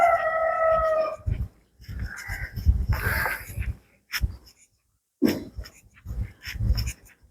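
A rooster crows in a quiet early-morning city in Sylhet, its call standing out in the stillness, with brief dog barks nearby and no one talking.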